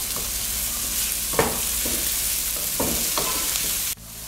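Tomatoes go into a hot pan with frying chopped steak for a Panamanian stew and sizzle steadily while a utensil scrapes and stirs in a few sharp knocks. The sound is close and clear with no speech.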